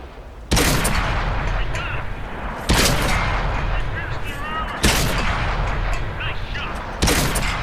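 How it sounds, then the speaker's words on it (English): Tank cannon fire in World of Tanks on console booms four times at roughly two-second intervals, each loud blast trailing into a rumbling decay under ongoing game noise. "Now he turns his turret, and I unload."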